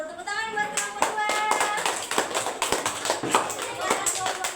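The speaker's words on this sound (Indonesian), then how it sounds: "Tepuk tangan buat kelompok 2." Students in a classroom clap for a group, a close, uneven burst of individual hand claps with voices talking among them.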